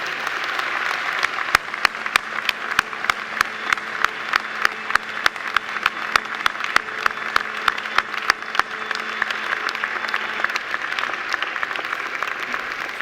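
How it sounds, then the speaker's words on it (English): A graduation ceremony crowd applauds continuously, a dense wash of clapping with a few sharp, distinct claps standing out, fading slightly toward the end. "please give them a very big round of applause"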